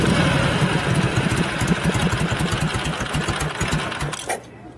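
A 1965 Harley-Davidson Panhead FLH with a 74ci engine and Linkert carburetor idles loud and close, its steady loping beat thumping unbroken before the engine cuts off at the end.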